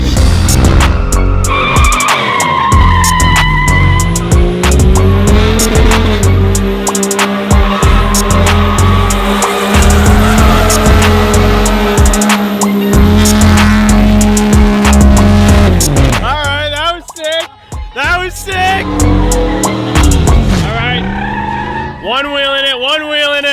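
A drift truck sliding through a drift, its engine roaring at high revs while the tires squeal loudly and continuously, then the screech breaks up and wavers near the end.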